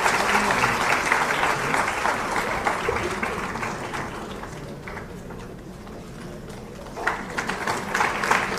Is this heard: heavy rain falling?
no